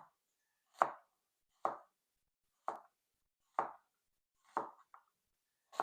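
An onion being chopped on a board, about seven crisp separate knife strokes spaced roughly a second apart, close and clear against quiet.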